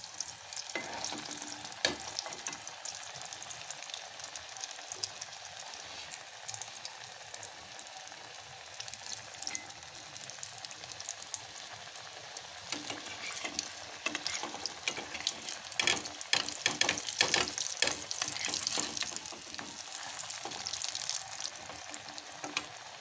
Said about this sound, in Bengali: এইগুলো আমি এখন কড়াইতে তেল দিয়ে দিয়েছি এখন আমি এই কাটলেটগুলো ভেজে নেবো